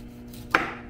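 A knife cuts through a dragon fruit on a board in a home kitchen, giving one crisp chop against a quiet background hum.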